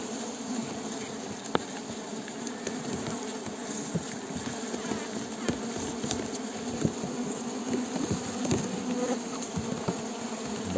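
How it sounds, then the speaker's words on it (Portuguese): A healthy swarm of bees buzzes densely and continuously at close range, a steady droning hum with faint taps and rustles throughout. "Enxame com toda a saúde de novo."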